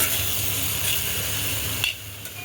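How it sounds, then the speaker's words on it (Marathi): Val beans (a wild vegetable) sautéed with garlic paste in a pan, a continuous hissing sizzle with stirring, close and steady, ending in a brief clatter and quieter sizzle. "भाजी आता चांगली मिक्स करून घेऊ. आणि चांगली परतून घेऊ 2 मिनिटं."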